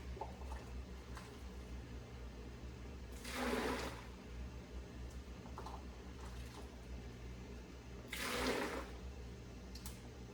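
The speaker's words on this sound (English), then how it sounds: "I'm gonna pour that in our bucket." Salt brine for 14-day pickles poured into a bucket in two short gushing bursts, each a couple of seconds long, over a quiet room background.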